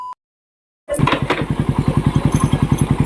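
A motorcycle engine, just reassembled at a repair shop, starts after a brief silence and runs loud and close with a steady, rapid chugging pulse.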